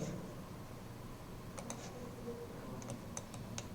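Keys on a computer keyboard tap out a command in a quiet room, a few soft scattered clicks, some in quick pairs, over a low steady background hum.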